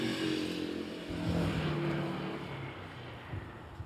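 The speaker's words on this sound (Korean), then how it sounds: "저런 오토바이 소리 같은 거." A motorcycle engine drones close by, swelling in the middle and then fading as it moves away, with steady low rumble underneath.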